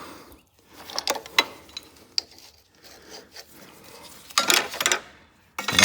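Mechanical ratcheting and scraping of a 3/4 inch wrench turning on a Cub Cadet 682 lawn tractor during carburetor work, coming in short, irregular bursts of clicks and rasps with quiet gaps between them, close and fairly soft.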